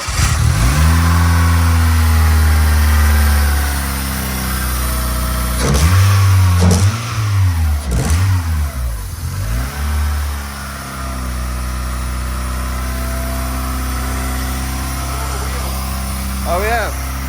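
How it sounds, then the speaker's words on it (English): The Fast and Furious Mitsubishi Eclipse runs loud and close in a garage, its engine revving up and down several times before settling into a steady idle, with someone talking over it. "But yeah, the engine's running and driving."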